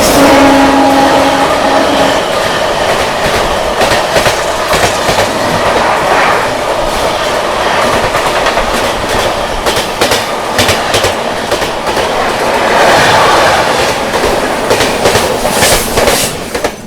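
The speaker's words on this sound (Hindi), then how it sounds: "बैंगलोर राजधानी एक्सप्रेस क्या गई है भाई, क्या गई है" Bangalore Rajdhani Express, running from Hazrat Nizamuddin toward KSR Bengaluru, rushes past a level crossing at high speed, a loud sustained roar of wheels and coaches with rhythmic clatter throughout, heard close and alone.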